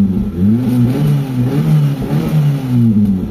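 Mitsubishi Lancer engine with a newly replaced carburetor revving repeatedly, loud and close, the pitch rising and falling in several throttle blips.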